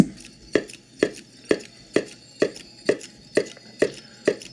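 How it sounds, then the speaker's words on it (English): Pulse generator on a test-equipment synth, triggered by a spinning turntable closing a circuit, gives about nine sharp, evenly spaced clicks roughly every half second, close and fairly loud with no talking. "There's the sound of the pulse generator."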